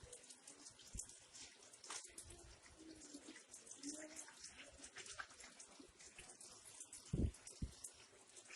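Faint, close splashing and trickling as vegetables are rinsed by hand in a bucket of clean water, with a few brief louder sloshes near the end.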